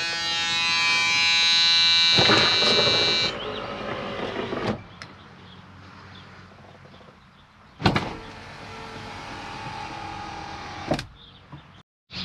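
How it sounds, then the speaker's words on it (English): Power windows whir up and down in a 1977 Ford LTD Landau, motor hum starting and stopping in several runs, each ending with a soft thunk. "we'll show you guys the power windows."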